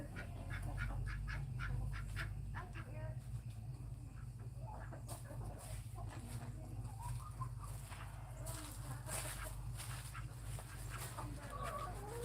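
Chickens and roosters cluck and squawk in a busy farm flock, with overlapping calls and bursts of louder cackling over a low background hum.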